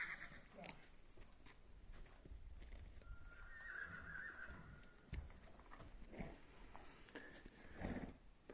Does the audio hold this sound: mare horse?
yes